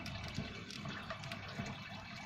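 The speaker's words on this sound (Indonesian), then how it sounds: "bisa kita lihat air mengalir cukup deras untuk hidroponik ini" A small pump pushes water through a hydroponic growing system, giving a steady, close gush and trickle of flowing water that runs unbroken throughout.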